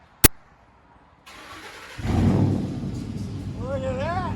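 A 2005 Ford F-150 King Ranch with a 5.4L Triton V8 and straight-pipe true dual exhaust starts up: a sharp click, then cranking that catches into a loud, rumbling idle, with a voice talking over it near the end.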